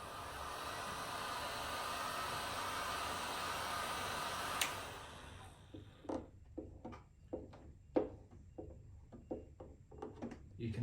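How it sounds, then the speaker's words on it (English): A heat gun blows a steady, loud airy roar while warming a decal on a Yamaha R6 race bike, then cuts off about halfway, leaving quieter scattered handling taps and rustles. "I wouldn't have been able to do that without the heat gun"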